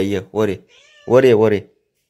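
A cat meows several times up close, its calls mixed with a person's voice speaking gently nearby.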